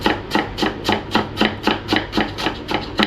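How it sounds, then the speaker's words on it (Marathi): Onions being chopped on a board in a home kitchen during Konkani family cooking, a knife striking in a steady, even rhythm of about twelve crisp close cuts with no talk. "हांगा कांदो चॉप करून जाला"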